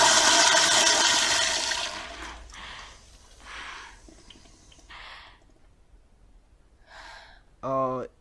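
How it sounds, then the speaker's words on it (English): A toilet flushing after an object falls in, a loud rushing burst of water that fades over about two seconds, followed by excited talking and a short gasp. "She dropped it down the toilet!"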